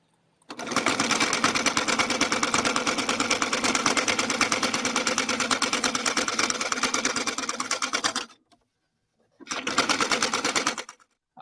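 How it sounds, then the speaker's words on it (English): A sewing machine runs close and loud in a rapid, even mechanical rattle for about eight seconds, stops briefly, then starts again for another short burst. "Sewing machine."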